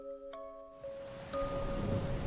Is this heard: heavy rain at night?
yes